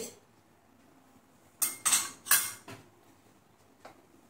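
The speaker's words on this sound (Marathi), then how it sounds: "इथे आपण ओलं खोबरं घेतलेलं आहे, तेही त्यामध्ये मिक्स करून घेऊया" A utensil scrapes and clinks against a dish in three quick close bursts as fresh grated coconut is mixed into poha, followed by one soft tap and quiet between.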